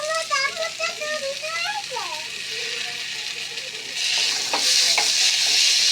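Fish frying in a pan with coriander leaves added, a steady close sizzle with stirring scrapes that swells louder toward the end, with a voice briefly audible early on.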